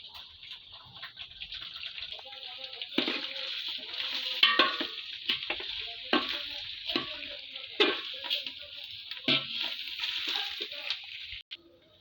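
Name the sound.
pulao rice being stirred and fried in a pan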